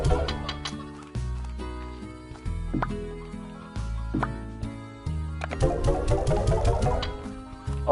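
Briar hens cluck in Slime Rancher, with short, repeated bird calls sounding over a bright, steady musical backing, moderately quiet and fairly close.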